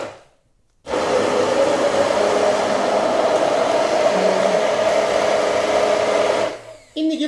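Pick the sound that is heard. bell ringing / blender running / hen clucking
blender running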